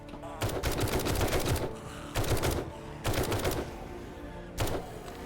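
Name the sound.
machine gun fire in the video game 7 Days to Die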